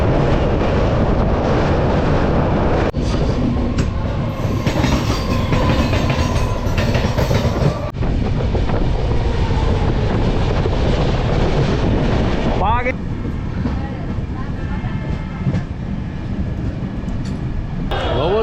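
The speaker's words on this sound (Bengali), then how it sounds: "এই দেখুন কাঞ্চনজঙ্ঘা এক্সপ্রেস 12 নম্বর প্ল্যাটফর্ম থেকে ছাড়ছে।" Kanchanjunga Express train departing a platform and crossing Bally Bridge, heard as a loud continuous rumble and rattle of carriages with clattering wheels and wind buffeting, steady throughout.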